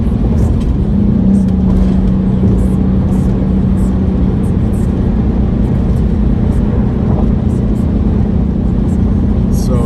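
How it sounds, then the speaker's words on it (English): A car driving along a road, its engine and tyre roar steady and loud throughout with a slight rise as the driver presses the accelerator, no voices over it. "I'm going to stop babbling and hit the gas a little bit."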